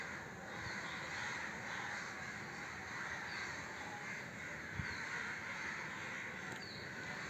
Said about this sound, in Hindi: तो अब देखते कितने कौवे पागल हो रहे हैं सुबह सुबह।